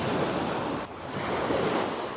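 Ocean waves crash and wash over a rocky outcrop at a beach at sunrise, a continuous loud roar of surf with wind buffeting the microphone and a brief lull midway.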